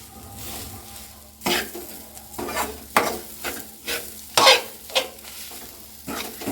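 Finely chopped coriander is stirred into a crispy snack mixture frying in a pan: a steady sizzle runs underneath while about eight distinct scraping stir strokes sound close and fairly loud.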